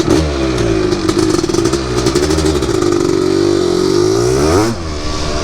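Honda TRX250R ATV fitted with a 390cc engine revs loudly and continuously up close, its harsh motor note climbing and holding steady before easing briefly near the end.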